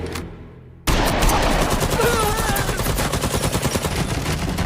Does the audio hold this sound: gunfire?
yes